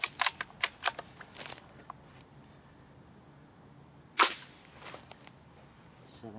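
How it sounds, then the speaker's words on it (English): A custom Theoben MFR air rifle loaded with RWS Superfield pellets fires into a wall-and-wood backstop, giving sharp, quiet cracks and snaps scattered across a quiet room, with one clearly louder shot partway through. "I'm going to chronograph it using a wall and a piece of wood as a safe backstop"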